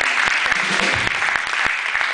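A crowd applauds a sound technician with steady, close, continuous clapping, dense and even for the whole stretch.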